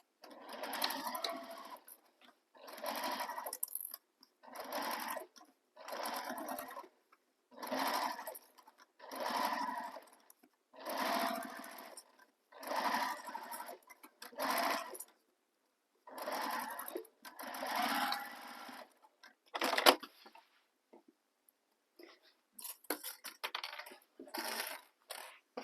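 A sewing machine stitches a handbag seam in about a dozen short bursts, each a second or so long with brief pauses between, close and fairly loud, with a small clack near the end.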